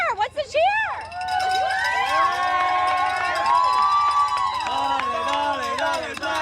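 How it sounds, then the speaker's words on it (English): Soccer fans cheering at the 2020 Los Angeles Marathon, a loud crowd of voices rising and sustained together, with whoops and shouts over steady outdoor roar. "Let's hear the cheer."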